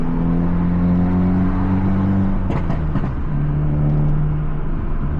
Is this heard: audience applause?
no